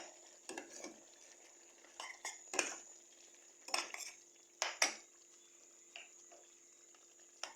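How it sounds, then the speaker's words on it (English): A utensil stirs pasta in a pot, making a handful of sharp, separate metallic clinks and scrapes against quiet pauses. "just give it a stir"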